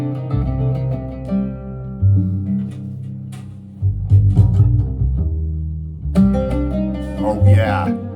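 An oud melody played back on a vinyl record, plucked in short phrases with brief pauses, warm and fairly loud, with bright notes bursting out near the end.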